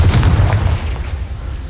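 A Confringo fire spell explosion in the video game Hogwarts Legacy: a single loud, deep boom with a sharp crack at the start, rolling into a rumbling tail that fades gradually.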